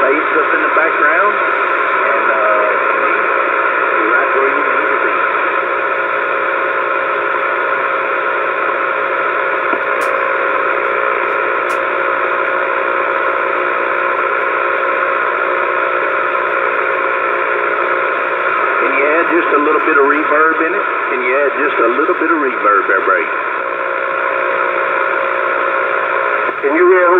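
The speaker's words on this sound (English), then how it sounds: "That's the way the radio's supposed to sound" A radio receiver plays thin, band-limited audio over a constant hiss throughout, with a voice coming through the set partway along.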